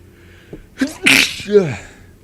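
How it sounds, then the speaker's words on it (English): A single loud, close sneeze with a sharp intake and explosive burst, followed by a brief voiced trailing sound. "I'm gonna sneeze."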